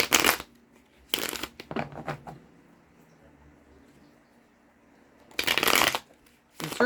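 Tarot cards are shuffled in short crisp riffling bursts, three clustered near the start and another later, close and clear, separated by quiet pauses during a reading.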